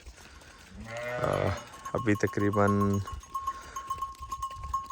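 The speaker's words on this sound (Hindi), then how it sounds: "चराई से भेड़ें आ रही हैं और जल्दी आ गई है आज।" A flock of sheep and goats returning from grazing on a farm bleats loudly and repeatedly nearby, with overlapping calls and a faint ringing bell, while someone talks briefly.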